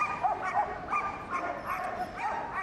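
Police dogs at a Crufts display bark and yip in short, repeated, high-pitched bursts, close and lively, over a murmur of arena noise.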